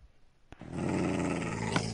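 A Minecraft wolf kept as a pet gives a low, steady growl that starts with a sharp click and holds for over a second, close and fairly quiet.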